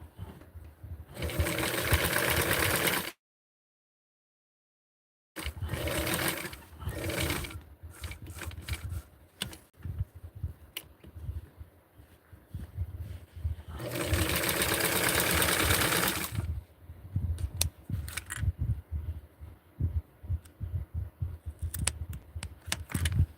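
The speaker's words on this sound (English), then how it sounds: "And I'm going to sew it up to right there." A sewing machine stitching a doll dress runs in loud, steady bursts of rapid mechanical whirring, separated by brief pauses, a silent gap and lighter handling clicks.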